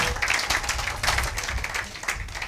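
A church congregation applauds in sustained, dense clapping that fills the space steadily throughout.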